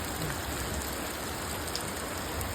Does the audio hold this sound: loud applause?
no